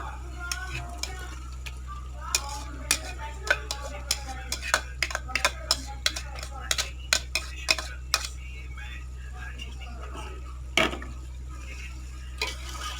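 A spoon stirs fried arbi (taro) sabji in a pot, making a string of light clinks and taps against the metal over a steady low hum, with faint sizzling underneath.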